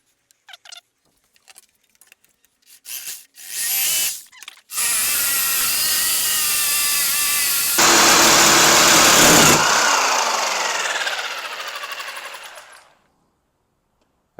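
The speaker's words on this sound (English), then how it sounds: "I'm going to actually cut these where I've got them marked. Put you over here, watch that cut." Power saw cutting the legs of a DIY cargo box for a Ford F150 camper, with a few clicks before a loud, sustained whine as the blade bites in. The whine runs several seconds, then spins down to silence.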